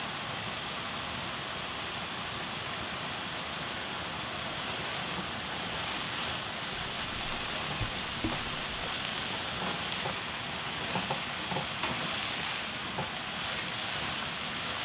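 Dried radish greens (siraegi) stir-frying in a pot, giving a steady, dense sizzle and crackle that holds evenly throughout with no voices.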